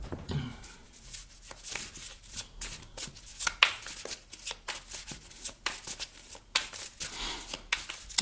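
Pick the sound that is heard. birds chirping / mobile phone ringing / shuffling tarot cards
shuffling tarot cards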